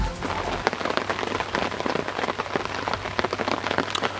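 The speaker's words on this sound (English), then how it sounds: "Got drizzle, bit of wind" Drizzle and light wind at a carp fishing lake, a steady patter of raindrops on a nearby surface, probably a bivvy, with a low rumble underneath, continuous and fairly close, no voices.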